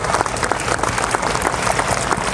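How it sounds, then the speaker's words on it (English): Dense, steady applause from a school audience honoring students at a silver jubilee inauguration, many hands clapping at once, loud and continuous throughout with no pause. "let us give them a big clap."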